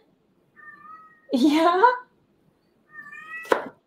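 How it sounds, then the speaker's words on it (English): A house cat meows at home, giving two or three clear, close meows with a longer, louder one in the middle; a person briefly speaks a word near the end. "She's sitting over there in the lounge looking straight at me, meowing away."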